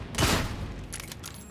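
A revolver fires in the video game Darktide as a quick burst of sharp reports, one strong shot followed by several fainter cracks within a second and a half, with no talking.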